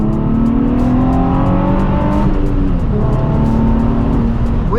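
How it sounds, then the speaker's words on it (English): A 2006 Nissan 350Z engine pulls hard while driving, loud and close from inside the car, its rising harmonic whine climbing through gears with brief dips at shifts. "Back here in the 2006 Nissan 350z, and I mean, this thing rips"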